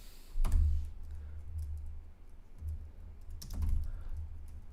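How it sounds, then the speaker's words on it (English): Fingers type on a computer keyboard in two brief bursts of soft clicking, with a few duller thumps, all fairly quiet and heard alone. "I cannot type without being able to see my keyboard"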